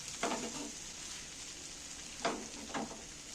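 Spices, including coriander powder, being stirred in a frying pan with onion, green chili, tomato, potato and egg: three faint scraping stirs with a soft sizzle beneath, heard alone without talk.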